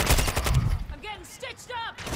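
Burst of gunfire striking a player in Call of Duty: Modern Warfare II, loud rapid shots over the first moments, followed by fainter game effects and brief sweeping tones as it fades.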